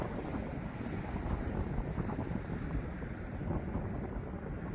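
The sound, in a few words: strong wind on coastal trail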